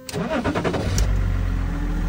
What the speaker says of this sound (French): Mais là maintenant, la voiture elle démarre.